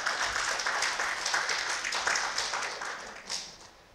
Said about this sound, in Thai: ปรบมือให้กับพระเจ้าของเราสิครับ